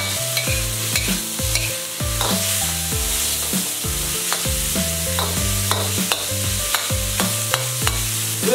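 Pork stir-frying in a hot wok sizzles with clattering stirs, partly under a loud rhythmic musical backing throughout.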